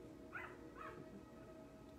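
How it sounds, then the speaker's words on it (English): Two short, faint yips from puppies off in the distance, spaced about half a second apart over a steady background hum. "Listen to those puppies"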